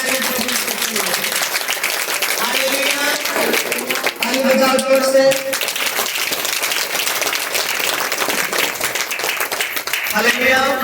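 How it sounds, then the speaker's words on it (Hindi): A church congregation claps loudly and steadily throughout a Hindi-language morning prayer service, with dense sustained applause layered under singing or chanting voices. "जोर से ताली बजाइए"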